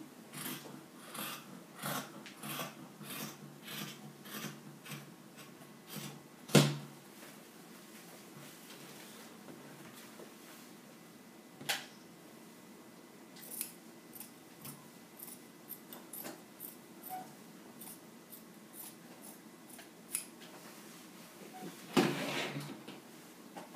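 Scissors cut fabric for a ruffle dress in a quiet room, making repeated soft rasping snips in quick rhythmic runs with a few sharper clacks and pauses, close and fairly faint.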